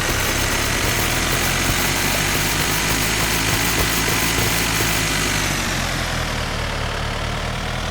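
Tractor engine in the farming game Dinkum runs at a steady idle-like drone, loud and continuous throughout, with no talk over it.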